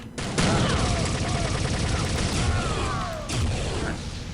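Grenade blasts and weapon fire in Star Trek Voyager: Elite Force, a loud continuous barrage with heavy booms near the start and again about three seconds in.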